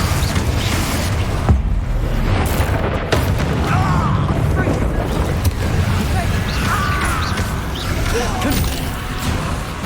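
Booming spell blasts and crackling impacts from a Hogwarts Legacy duel on PS5, loud and dense, crashing one after another under continuous combat clamor and creaks for the whole stretch.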